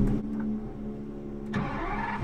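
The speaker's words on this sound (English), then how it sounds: "Let's start the engine." A Lamborghini Essenza SCV12 with its 830-horsepower V12 catches after a brief starter crank, then settles into a loud, deep, steady rumble close by, with nobody talking.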